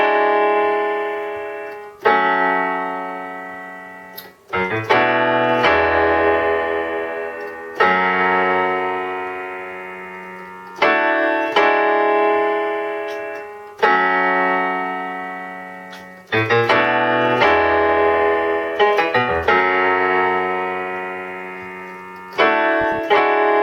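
Solo piano playing the chords and bass line of a song, right-hand chords over left-hand bass notes, struck in slow repeated phrases that ring and decay between attacks, clear and close.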